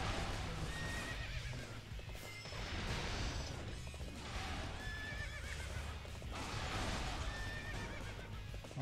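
A horse in the game Europa Universalis IV neighs and whinnies in repeated bursts over steady clip-clopping hooves and clanking mechanical effects, loud and close.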